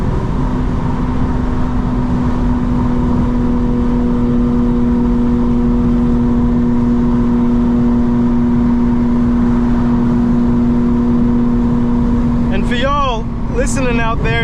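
A 2025 BMW M4 Competition xDrive cruises with a steady, loud engine drone and deep exhaust tone holding an even pitch throughout, ending with a brief change near the close.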